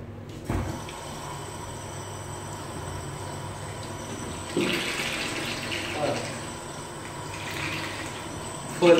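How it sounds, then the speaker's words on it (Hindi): Clean water pours steadily into the tank of a battery-operated ride-on scrubber dryer, a continuous splashing rush heard close up with a few louder surges and bumps. "अभी पानी जा रहा है अंदर"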